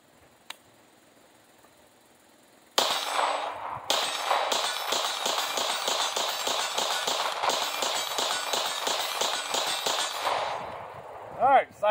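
A PSA Dagger pistol fitted with a Glock performance trigger fires a full magazine as a long, fast, evenly paced string of loud, echoing shots that end abruptly.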